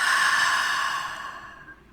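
A single deep breath out during guided meditation, a soft airy exhale that fades gradually over two seconds, close and alone.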